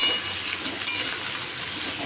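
Papaya and potato curry frying in a pan with a steady, close sizzle and a brief bright clatter near the middle, no voices present.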